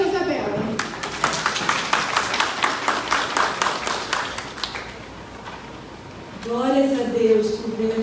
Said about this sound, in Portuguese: Palmas para a Isabela